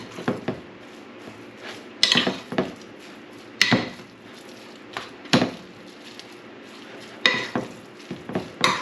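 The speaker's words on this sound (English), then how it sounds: "Get that all stirred up good." Deer jerky meat is stirred with spice in a kitchen bowl, giving repeated sharp clacks and scrapes of a utensil against the dish in an irregular rhythm.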